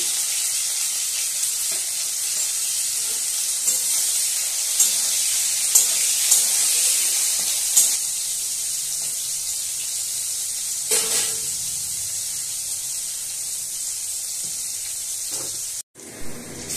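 Bitter gourd frying with salt and turmeric in mustard oil in a wok, a constant close sizzle broken by a few soft stirring knocks and a brief clatter near the end, with no voices.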